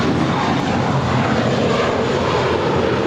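An Aeromexico Boeing 787-8 Dreamliner landing at LAX on a flight from Mexico City: a loud, steady broadband jet roar close by, unbroken for the whole few seconds.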